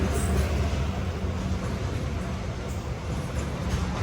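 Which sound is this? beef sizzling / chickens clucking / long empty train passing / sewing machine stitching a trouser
long empty train passing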